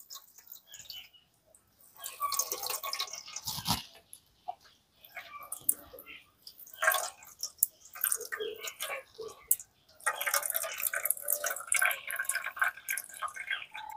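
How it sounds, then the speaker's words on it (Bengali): Chhana curd for nolen gur sandesh squeezed by hand to press out its water, giving soft wet drips and splatters in bursts with small clicking handling noises, close up. "এবারে খুব ভালো করে হাতে করে এটাকে চেপে চেপে জলটা বের করে নিতে হবে।"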